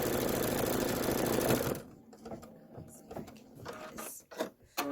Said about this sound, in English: So if you do have a serger, go ahead and set it up.